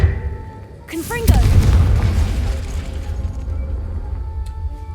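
A fiery blast spell from the Hogwarts Legacy video game detonates with a loud boom after a short whooshing cast, then a long rumbling tail, heard over a shouted incantation and game ambience.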